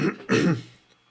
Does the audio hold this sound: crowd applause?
no